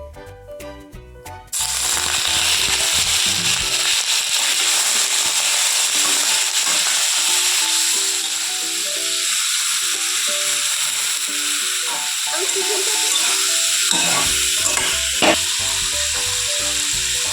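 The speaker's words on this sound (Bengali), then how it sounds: "তেলটা গরম হয়ে গেছে, এরপর আমি চিকেনগুলো দিয়ে দেবো।" Chicken pieces for street-style chicken pakora hit hot oil and break into a loud, continuous sizzling hiss that holds steady for most of the stretch after a brief quieter start, with no talking.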